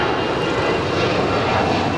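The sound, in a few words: Airbus A319 jet departing runway at LAX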